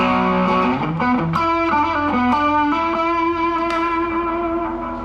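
Electric guitar played through a Boss SD-1 Super Overdrive pedal, a loud, sustained, distorted tone moving through a short descending and rising melodic line.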